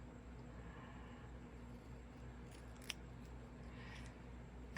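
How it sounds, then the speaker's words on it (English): Scissors snip through two stacked pieces of patterned paper held together, giving a few faint, quiet cuts against a soft background hiss during a stamping and papercraft session. "I'm going to grab two and put them back to back and trim them both at the same time."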